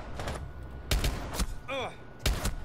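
Pistol gunshots in a video game ring out as several sharp, separated cracks with echoing tails, mixed with game effects and a short rising tonal sweep in between.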